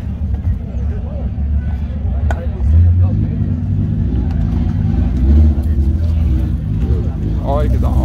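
A 1978 VW Brasilia with a 1600 engine and a buggy exhaust idles and revs loudly up close, a deep continuous rumble swelling in a couple of surges.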